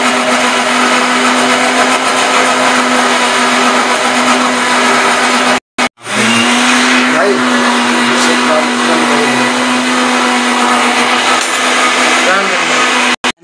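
A kitchen mixer grinder runs steadily while meat is prepared on a cold, rainy day, a loud continuous motor whine that cuts out briefly and restarts, with voices now and then under it.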